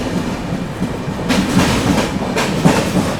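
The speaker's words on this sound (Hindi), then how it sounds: "अपनी महाराष्ट्र संपर्क क्रांति ने बिना रुके कर दिया है वलसाड रेलवे स्टेशन को स्किप" The Maharashtra Sampark Kranti Express rolls through Valsad railway station close by without stopping, a steady rumble with rhythmic clickety-clack of wheels over rail joints and bursts of rushing noise.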